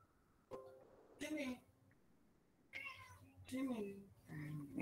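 A cat meows several times close by, separate drawn-out cries spaced over a few seconds against a quiet room, with soft voices in between.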